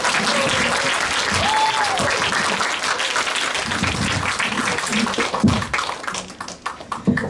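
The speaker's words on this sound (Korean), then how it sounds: "김하미 박사님을 큰 박수로 환영해 주시면 감사하겠습니다" An audience at a university media education lecture breaks into loud, dense applause to welcome the speaker, many hands clapping together close by and tapering slightly toward the end.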